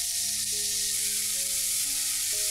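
Pickled mixed vegetables (wu liu) stir-fried in a wok give a steady, broad sizzle that runs evenly throughout, with faint low tonal hum beneath and no voices.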